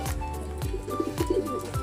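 Racing pigeons coo softly and repeatedly nearby, low throaty calls overlapping against a faint background hum.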